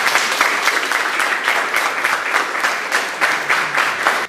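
Loud, thunderous applause from an audience after a mini concert, a dense wall of clapping that swells in rhythmic waves and stays close and strong for over four seconds.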